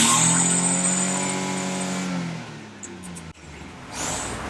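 A Datsun 240Z engine, being tuned after refusing to rev, climbs steadily to a high, loud rev for about two seconds, then drops away with a sharp pop before picking up again briefly.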